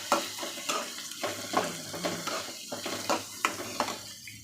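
Onions and a little grated coconut sautéing in a pan, with a soft sizzle under repeated scraping and stirring strokes from a spoon against the metal, fairly close and steady.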